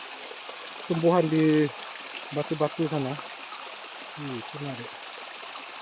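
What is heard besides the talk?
Tak Abek waterfall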